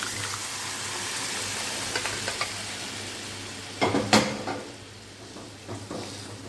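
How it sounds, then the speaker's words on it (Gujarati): Boiled dal poured into a pan of cooked onion and tomato, a steady sizzle with a few clinks and a louder splash and stirring scrape partway through, then quieter bubbling. "ડુંગળી અને ટમેટા સડી ગયા છે એમાં જે આપણે દાળ બાફીને રાખી છે તેને ઉમેરી દઈશું"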